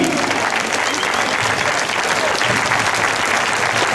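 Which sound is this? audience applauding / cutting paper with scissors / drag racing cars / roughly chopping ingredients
audience applauding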